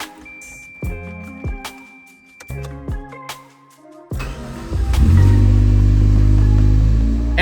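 A rebuilt 1998 Toyota Tercel engine cranks with several clattering starter bursts, then catches around midway and settles into a loud, steady rumbling idle.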